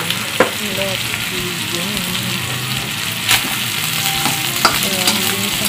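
Onion and garlic sautéing in a pan with chicken, a loud continuous sizzle with spatula scrapes and a few clinks, while someone speaks briefly over it.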